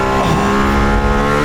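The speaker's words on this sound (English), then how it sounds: "It's got a Formula 1 engine, a 2015 Formula 1 power system" Mercedes-AMG One hypercar with a 2015 Formula 1 hybrid power unit, its engine holding a steady, loud, harmonic drone throughout with a slight pitch wobble, no voices over it.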